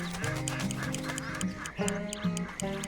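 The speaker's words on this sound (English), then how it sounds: "Those ducks just flew over." Ducks in the Red Dead Redemption 2 countryside quack repeatedly in nasal, overlapping bursts, several birds calling close by and fairly loud with short pauses between calls.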